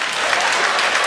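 An audience at a stand-up comedy show bursts into loud, dense applause, a continuous close wash of clapping throughout the short moment.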